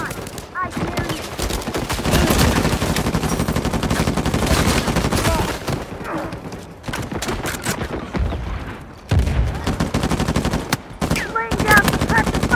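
Gunfire in an Uncharted 4 team deathmatch multiplayer game: rapid automatic bursts and single shots in loud clusters, broken by short pauses, continuing across most of the stretch.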